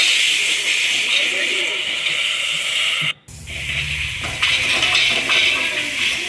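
Masala spices fry in oil for a pangas fish curry, releasing their oil with a constant bright sizzle that drops out briefly midway, then resumes under a low background rumble.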